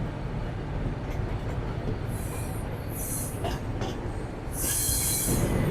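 A train rolls past the railway ground in Saidpur, Bangladesh, a steady loud rumble of wagons with brief high wheel squeals and metallic screeches breaking through, growing fuller near the end.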